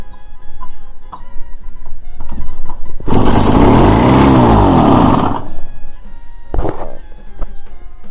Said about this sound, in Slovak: Aby bolo ešte video kompletné, tak si ukážeme aj štart tohto motora.